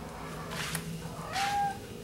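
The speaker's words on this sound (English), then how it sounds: "Oh, hello, kitty cat." A cat lets out a drawn-out meow close by, over low indoor background hum, with a faint earlier vocal murmur before it.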